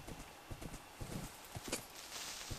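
Minecraft horse hooves clip-clopping in a steady, uneven trot, faint and somewhat distant, with a short brighter cry partway through.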